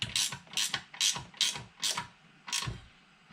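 A ratchet wrench clicks while bolting up a part on a Porsche 914 LS turbo, six short bursts of rapid pawl clicking in a steady rhythm, close and fairly quiet.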